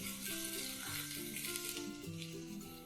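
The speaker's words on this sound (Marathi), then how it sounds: "याला उकळी छान आलेली आहे." Tempering for khamang dhokla, seasoned with salt and coriander, bubbles and sizzles in a pan on the stove, giving a soft continuous crackle that stays quiet and even throughout.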